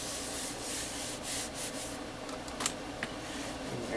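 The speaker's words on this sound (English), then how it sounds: "burnish that down" Score tape is burnished down onto paper over a card spine, giving soft continuous rubbing and scraping strokes, close and fairly quiet, with a couple of small taps toward the end.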